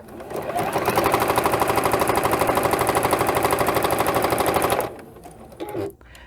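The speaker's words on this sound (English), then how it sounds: "So all I've done is sewn the sides." A sewing machine runs steadily for nearly five seconds, stitching the sides of a fabric face mask at a half-inch seam with a rapid, even mechanical rhythm, then stops. A few quieter handling noises follow.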